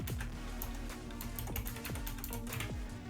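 Quick, quiet keystrokes on a computer keyboard form a steady clicking patter that runs the whole time over a faint low electrical hum, with no voice.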